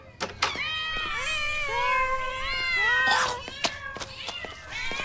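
Several cats meow repeatedly in a veterinary lab, overlapping, rising and falling calls close by, with a few sharp clicks mixed in among the mewing.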